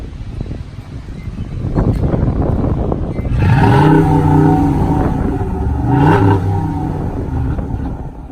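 A 2017 Ford F250 Super Duty truck engine idles, then revs up twice in strong, rising surges, loud and close, each settling back toward idle.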